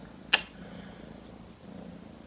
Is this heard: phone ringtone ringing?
no